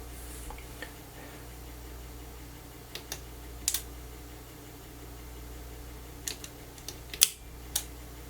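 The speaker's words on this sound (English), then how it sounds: "Now this tiny relay is clicking." A tiny relay inside a Harman Kardon hk300xm amplifier under repair clicks faintly in scattered single and double ticks over a low steady hum, with no talking.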